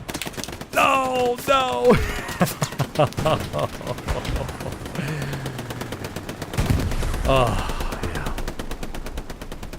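Gunfire in Hell Let Loose during a large 49-versus-49 competitive match at Foy, with rapid bursts and scattered shots crackling around while a voice talks over the battle.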